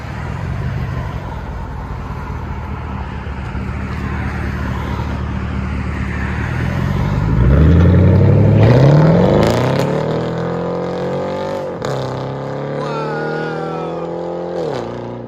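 A Chevy Camaro SS V8 cranks to life with its aftermarket exhaust roaring loud and close, revving up sharply then settling into a deep, rumbling idle with further blips of throttle.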